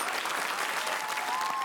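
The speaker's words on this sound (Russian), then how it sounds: "Аплодисменты! Молодец!" Studio audience applause on a Russian television game show, a dense steady wash of clapping held at an even level across the whole short stretch.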